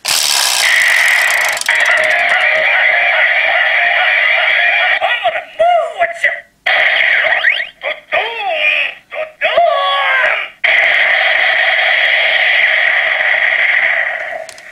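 A GaburiChanger henshin gauntlet toy plays its special attack sounds: electronic tones in a sustained, buzzy chord, broken midway by a run of chirpy warbling effects before the steady tone returns.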